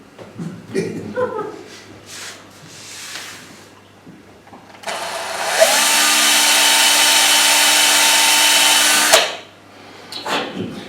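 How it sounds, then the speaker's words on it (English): A power drill bores into a pipe for a smoking snowman figure, a loud steady whine lasting about four seconds near the middle, with talking before and after it. "So what we're going to do is drill the pipe and try to get it as level as you can"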